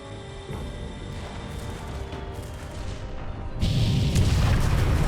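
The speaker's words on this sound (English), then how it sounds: "Gunnery control, open fire." Warship gunnery fire in the space combat game FreeSpace 2, a low rumbling barrage of booms and blasts under a droning hum that swells louder partway through, with no speech.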